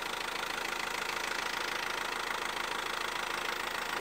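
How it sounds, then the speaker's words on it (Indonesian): An Isuzu NHR 55 truck engine with a badly leaking turbo idles steadily, giving a constant close, even rumble with a fast regular pulse and no voices. "Ini mesin sudah saya hidupkan"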